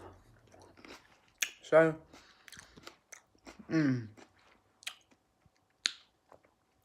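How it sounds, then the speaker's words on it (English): Someone munches on pieces of fruit close to the microphone, with wet crunchy bites and chewing sounds between short bursts of talk. "I'm gonna get munching."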